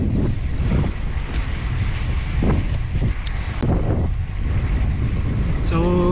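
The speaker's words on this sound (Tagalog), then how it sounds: "Grabe talaga, lakas talaga ng hangin" Strong wind roars and buffets the microphone continuously, a dense low rumble with gusts, and a voice briefly speaks near the end.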